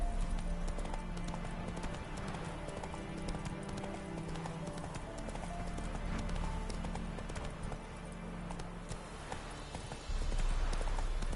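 Geralt's horse Roach in The Witcher 3, continuous hoofbeats clattering in a steady galloping rhythm over a busy background, with a brief louder shift near the end.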